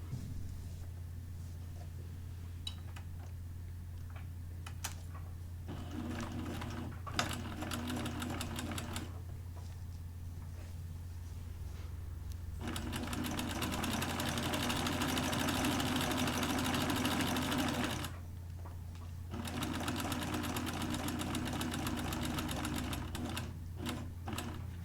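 A sewing machine stitches a dart in a skirt, with its motor running in several stretches of rapid, even whirring and stopping between them, close and steady over a low background hum.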